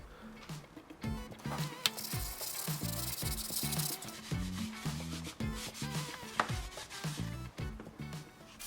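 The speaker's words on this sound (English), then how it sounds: "While I have the battery out, I'm just going to give the base a good clean." Scrubbing and wiping the battery base plate of a Toyota Yaris, taken out during a battery replacement, heard as close, rhythmic rubbing strokes with scraping bursts and small knocks, no talking.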